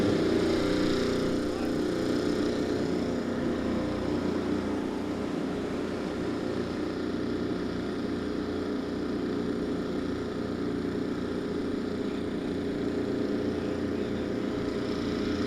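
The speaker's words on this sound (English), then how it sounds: "Drivers, start your engines!" IndyCar race car engines fire up together on the Alabama grid, forming a dense, continuous mechanical drone that holds steady throughout, with a commentator's voice over it.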